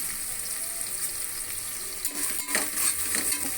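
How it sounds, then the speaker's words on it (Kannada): Four cashews fry in a pan with onions for a vegetable pulao, giving a steady close sizzle with scraping stirs that grow a little louder toward the end. "ಫ್ರೈ ಮಾಡಿ. ಸೊ 4 ಗೋಡಂಬಿ ಹಾಕೊಳ್ತಾ ಇದ್ದೀನಿ."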